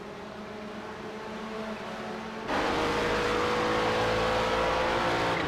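GTP prototype race cars in the racing game iRacing at Le Mans, a steady engine drone that jumps abruptly louder halfway through as cars roar past close, sustained with no talk.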